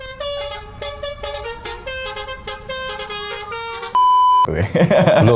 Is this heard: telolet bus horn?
yes